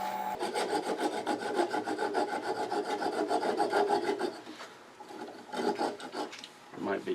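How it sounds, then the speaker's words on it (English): A thin flush cut saw rasps back and forth through wood at close range. The strokes are quick and regular at first, then slower and more uneven toward the end. "I'm going to do the remainder with a thin flush cut saw."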